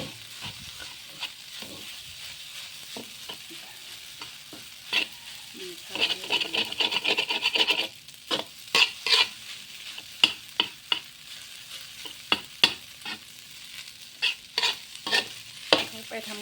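Rice and egg being stir-fried in a pan at home, soft sizzling with a run of sharp spatula scrapes and clacks that grow more frequent and louder later on.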